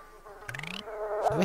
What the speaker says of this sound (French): où est-ce qu'elles viennent, ces mouches ?